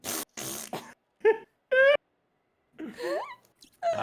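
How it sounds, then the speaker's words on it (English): A creature's radioactive fart from the Fallout video game, heard as a few short, rough, sputtering bursts with wavering squeals, loud and close amid gaps of silence. "Ghoulrilla radioactive fart."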